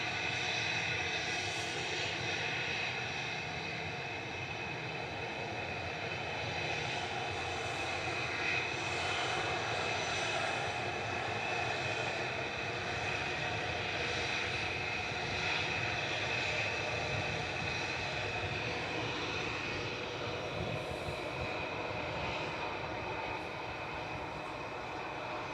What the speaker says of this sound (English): We've got Gezet lining up now with flight 2109 to Paris Charles de Gaulle.